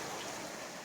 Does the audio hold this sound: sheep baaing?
no